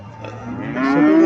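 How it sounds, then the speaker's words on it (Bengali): A small Jersey cow at the Mirshanni cattle market in Cumilla lets out a single loud, close moo that rises in pitch over about a second, heard on its own. "এখানে একটা গাভী দেখা যাইতেছে"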